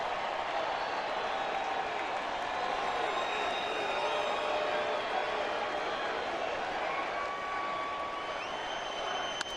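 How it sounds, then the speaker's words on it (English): A baseball stadium crowd roars in a frenzy during an August Dodgers at Padres game, a loud, unbroken wall of cheering and applause with a voice faintly audible beneath it. "this crowd is in a frenzy right now"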